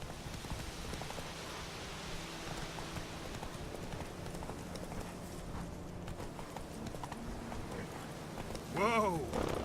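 The horse Roach's hooves clip-clopping at a steady pace in the video game The Witcher 3, continuous and moderately faint under a soft rain-like background, with a voice speaking near the end.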